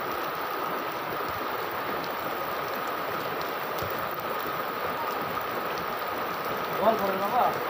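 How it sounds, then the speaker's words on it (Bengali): Heavy rain pours down in a steady, broad hiss of falling water, with brief voices rising faintly near the end. "খুব পরিমাণে বৃষ্টি হচ্ছে"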